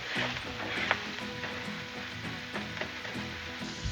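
Hamburger meat frying on a Blackstone griddle, a close, steady sizzle with scattered crackles and light scraping or stirring, no talking.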